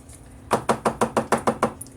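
Eight quick, sharp knocks in an even rhythm, a tumbler tapped firmly against a surface to knock off glitter, close and crisp.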